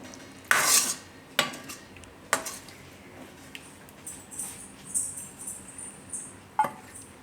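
Metal spoon scraping and clinking against a pan while serving chana palak curry, several sharp utensil knocks among softer scrapes, close and fairly loud with no talking.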